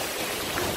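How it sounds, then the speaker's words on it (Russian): Water pouring down in a steady cascade like a small waterfall, outdoors in Copenhagen, Denmark; a continuous broadband rushing wash, close and even throughout the short moment with no voices. "Смотри, там вода прям водопадом стекает."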